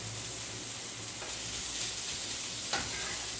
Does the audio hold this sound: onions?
yes